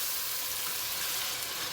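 Ground beef goulash with seasoning and tomatoes sizzles and fries steadily in a pot, a dense, even crackle heard up close with no talking.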